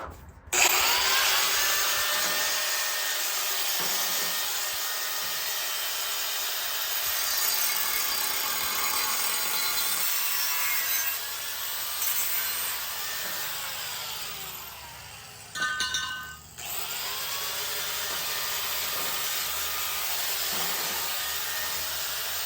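A power saw cuts through welded exhaust pipe sections on a 454 Nova with a loud, sustained grinding rasp, briefly pausing and shifting pitch partway through before resuming steadily.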